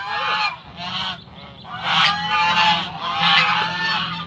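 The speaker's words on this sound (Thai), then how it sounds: "ผู้ชายอยากดูห่านครับ" Geese honk repeatedly at a farm garden, several loud nasal calls overlapping in bursts with short gaps, close and clear.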